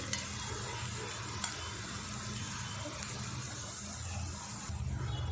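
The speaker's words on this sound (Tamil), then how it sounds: "மீடியம் ஃப்ளேம்லேயே வச்சு பார்த்தீங்கன்னா நான் அதை ஃப்ரை பண்ணிட்டேன்" Wheat flour snack frying in oil over a medium flame, a steady soft sizzle and bubbling that continues evenly throughout, with no talking.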